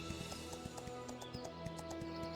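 Horse hooves galloping in the video game Astellia Online, a rapid, even run of thudding hoofbeats over a musical background.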